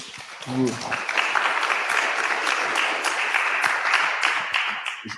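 A conference audience at a circular-economy and construction talk applauds the speaker, with dense, steady clapping filling the room for several seconds after a brief spoken word at the start.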